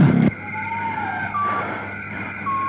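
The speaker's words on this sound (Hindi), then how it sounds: "ये तो गाड़ी की आवाज है" An approaching car on a deserted forest road, a faint engine whine that rises and shifts in pitch as it nears, following a short loud burst at the start, with no one speaking.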